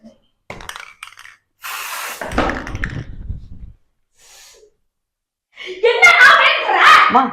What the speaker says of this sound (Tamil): ஸ்ப்ரே தான் இது, கலர் ஸ்ப்ரே